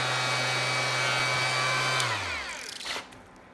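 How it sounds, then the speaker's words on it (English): A wooden bottle stopper spins on a woodturning lathe while its bottom is sanded, a loud steady whirring hiss that fills most of the clip before the motor winds down and fades near the end. "And now just sand the bottom."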